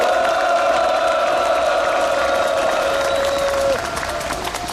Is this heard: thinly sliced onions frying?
no